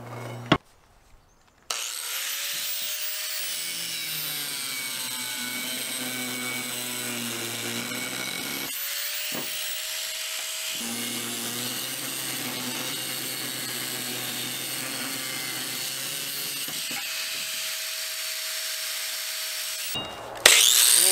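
A power grinder works steadily for about twenty seconds, rounding off sharp steel corners on a skiff trailer being rebuilt. The tone is loud and continuous, dips briefly near the ten-second mark and then resumes, with no talking.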